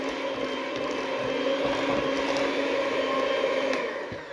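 Banana bread batter being mixed by an electric mixer, a steady, close whirring hum with a slight mechanical rattle that holds evenly, then eases at the end.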